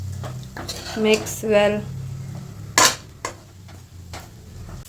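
Metal spoon scraping and clattering against a pan while coriander leaves are mixed into savige uppittu, with a few loud clanks and scrapes, a brief voice, and background chatter.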